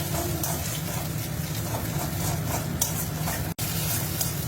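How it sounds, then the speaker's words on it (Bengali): Mashed eggplant bharta is stirred and fried in a pan with a constant close sizzle and scraping stir noises throughout. A brief pause in the sound comes partway through, and no one talks. "এরপর ভালো করে এটাকে মিক্স করে নেব আর ভালো করে ফ্রাই করে নেব।"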